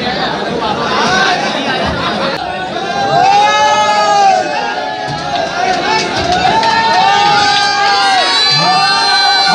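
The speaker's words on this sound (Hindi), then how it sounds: "तालियां।" Crowd cheering and chatter at a pigeon flying tournament prize ceremony, a loud continuous mass of voices with whoops and rising calls throughout, people talking within it.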